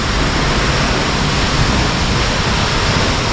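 Shoshone Falls roaring in a loud, dense, unbroken rush of falling water, heard close and enveloping with no pauses.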